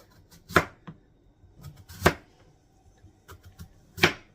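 A knife cuts two scrubbed sweet potatoes into half-inch slices on a board, giving three distinct, evenly spaced thuds with softer taps between them.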